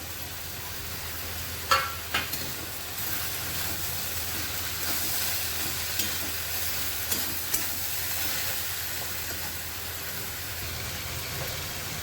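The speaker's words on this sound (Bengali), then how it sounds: "এবার আমি চিংড়ি মাছগুলো দিয়ে দেবো।" Prawns go into a pan of ash gourd with a couple of sharp initial splashes of sizzle, then a steady, moderately quiet frying hiss continues with occasional small crackles and spoon taps.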